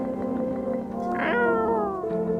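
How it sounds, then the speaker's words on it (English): A cat in a doppelganger horror video game gives a single clear, rising then falling meow that lasts about a second over a steady low background hum, with no talking. "Oh, it's the cat!"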